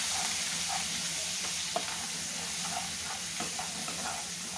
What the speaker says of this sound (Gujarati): હવે આપણે આને થોડું સાંતળી લઈશું।